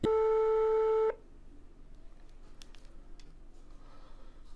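An Android phone emits a single steady call tone for about a second after a call is launched, then the line falls to a low, quiet hiss with faint ticks.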